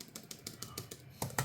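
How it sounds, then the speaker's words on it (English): Quick, even keystrokes tap on the detachable keyboard of a Samsung Galaxy Tab S10 FE. The light clicks are close and fairly quiet, ending in two slightly heavier presses. "So the keyboard feels okay."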